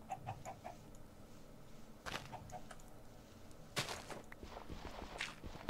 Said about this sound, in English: Should we just kind of kill this chicken?